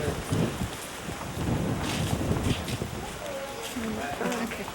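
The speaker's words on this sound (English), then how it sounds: "The wind's blowing, just about blew me over." Wind gusts roar across the microphone outdoors in an alley near an archway, with loud, rumbling buffeting throughout and faint voices underneath.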